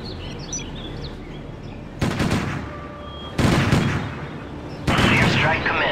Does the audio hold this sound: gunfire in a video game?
yes